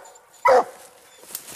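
A single loud, close bark from a coonhound, an English or Walker dog out coon hunting at night, followed by faint distant barks.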